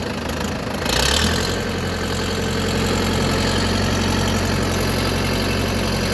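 A Lovol 504 tractor engine idles steadily, a low continuous rumble that briefly swells near the start and then holds an even, close drone.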